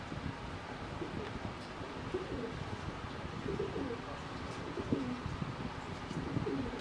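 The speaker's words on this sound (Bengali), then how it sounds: "যেমন এখন পাকিস্তানি একজন কবুতরদের দেখাবো হাই ফ্লেয়ার, একবারে অরিজিনাল পাকিস্তানি কালার" Pakistani high flyer pigeons coo faintly in a steady low murmur, with wind hissing on the microphone and someone talking over them.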